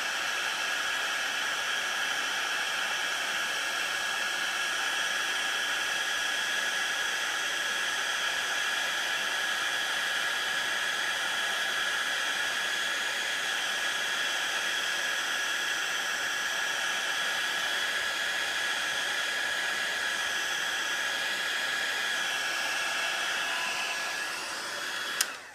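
A heat embossing tool blows hot air over embossing powder on a Christmas tag, a close, steady whirring hiss with a high tonal whine that holds unchanged for about twenty-five seconds before clicking off.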